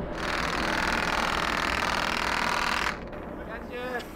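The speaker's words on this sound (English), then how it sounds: "As the beam pulses, it strips air molecules of their electrons, creating an explosive plasma that propels the craft from below." Laser-pumped plasma pulses drive a small flying saucer craft, making a rapid, harsh buzzing pulse train for about three seconds that cuts off abruptly, followed by a voice.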